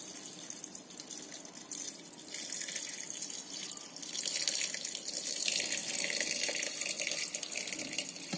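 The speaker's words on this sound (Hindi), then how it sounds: "फिर पानी डालेंगे।" Water runs from a tap into a pot for urad dal khichdi, a steady close stream that grows louder and fuller partway through as the pot fills, with no talking.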